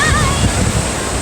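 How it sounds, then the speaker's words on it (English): Rough Atlantic Ocean surf at Tybee Island beach on a very windy day: a loud, continuous roar of breaking waves mixed with heavy wind buffeting the microphone, close and unbroken. "That's why the waves are so rough."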